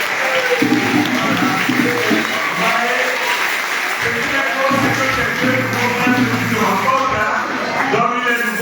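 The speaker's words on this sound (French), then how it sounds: "Nous applaudissons pour le Père qui l'accueille." Congregation applauding the priest at an Easter Mass in a church, a sustained wash of many hands clapping throughout, with voices talking beneath the applause.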